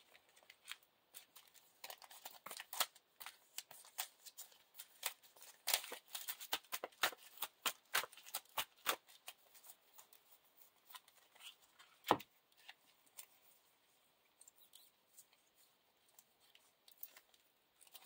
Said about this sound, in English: Shuffle these 5 so we draw 6 cards.